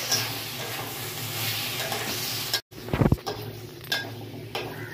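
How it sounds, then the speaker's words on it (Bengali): Spices and potatoes stir-fried in a pan give a steady close sizzle, with a brief gap and then a few scraping stirs of a utensil against the pan. "মশলাটা আমার খুব ভালোভাবে কষানো হয়ে গেছে আলুর সাথে।"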